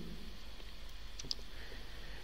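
A single faint computer mouse click, a short sharp tick against a quiet room hum, with no talking.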